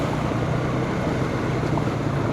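A motorcycle ploughs through deep floodwater on a flooded highway, a steady, loud rushing wash of churned water with engine rumble underneath and no clear speech.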